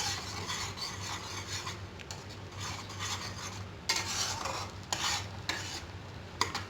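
Ginger garlic paste being stirred in a pan for a potato curry: a steady scraping, rasping sound of a spoon against the pan with soft sizzling underneath and occasional sharper knocks, close and clear, with no talking.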